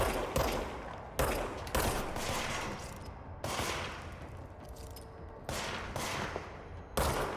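Enemy gunfire in the game Control: loud, close bursts of rapid shots in several separate volleys, each ending in a decaying crash, with no talking.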